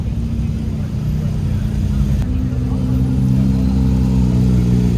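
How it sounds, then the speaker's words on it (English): Porsche sports cars, including 911 GT3 RS models, rolling in at a Gunther Werks car show open house, with a deep steady engine rumble and idle burble, loud and close, a passing rev rising slightly. "And then we got some more Porsches rolling in."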